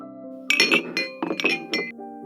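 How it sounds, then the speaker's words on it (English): Glass bottle clinking: four or five bright, ringing chinks in quick succession over a steady sustained musical tone, close and clear. "add a glass clink sound effect."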